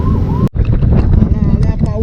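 An ambulance siren wails through road traffic, its rising and falling tone heard from a moving motorbike amid heavy wind noise and a short dropout.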